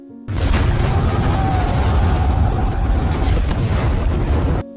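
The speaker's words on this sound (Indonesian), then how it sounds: "Mereka semua meyakini kalau Pete dan si sipir telah tewas terbakar akibat ledakan tersebut" A gas cylinder blows up in a film scene, a loud sustained roaring blast that holds steady for about four seconds before cutting off abruptly.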